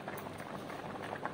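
A pot of rice with potatoes boils steadily, a soft continuous bubbling and simmering that stays faint and even throughout, with no voices.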